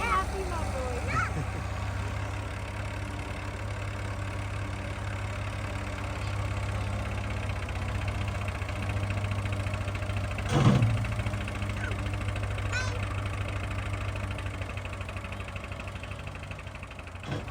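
A low tractor engine idles steadily throughout with a constant rumbling hum, while occasional faint knocks and clatters sound over it, on an overgrown farm in Portugal.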